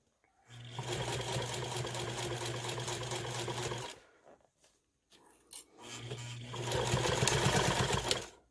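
A sewing machine stitches a fabric strap connector with a D-ring for a Harvey clutch bag, running in two steady bursts separated by a short pause, close and fairly loud with no talk.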